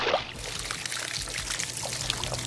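Goo pours and gushes out of a Red Hulk Goo Jit Zu toy in a steady, wet trickling stream, close and continuous, with faint squelchy bursts along the way.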